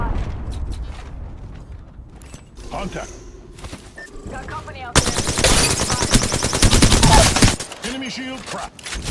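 Gunfire from a weapon in the Apex Legends video game, with mechanical clicks and scattered shots that break into a loud sustained burst of rapid automatic fire, then tapering off.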